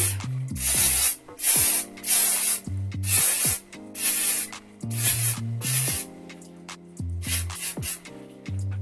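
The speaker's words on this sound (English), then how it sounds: "Just gonna spray." Hairspray sprayed onto a lace frontal wig in a series of short, loud hissing bursts, about a dozen in quick irregular succession, close to the listener, with faint rustling between them.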